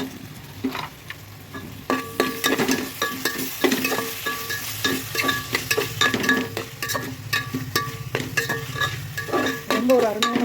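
Ground coriander, garlic, ginger and mint fry in a pot of mutton biryani, a constant close sizzle broken by repeated rhythmic scrapes and clinks of a metal spoon stirring against the pan, with no talking.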